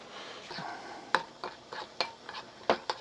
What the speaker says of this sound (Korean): 잘 저어주고요